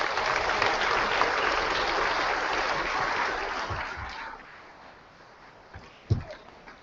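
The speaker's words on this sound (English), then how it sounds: "please stand up and give them a round of applause" Applause from an audience at a school moving-up ceremony for geometry students, a dense steady clapping that gradually thins and fades over several seconds, leaving a few scattered claps and bumps near the end.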